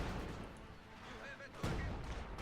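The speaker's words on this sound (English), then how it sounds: "Good fire from the Zis using its field artillery ability." A single heavy boom from a ZiS field artillery gun firing in a strategy video game erupts partway through, set under ongoing commentary that continues before and after the blast.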